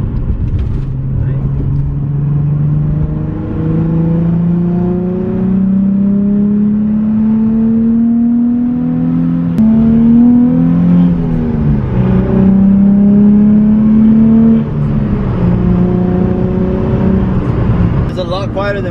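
A Nissan 350Z with an ISR single exit exhaust idles close by and is revved repeatedly, its deep engine note rising and falling in long pulls while people talk over it.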